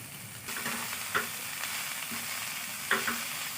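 Asafoetida (hing) dropped into hot oil, a steady soft sizzle and crackle with a couple of sharper pops and stirring scrapes, no talking.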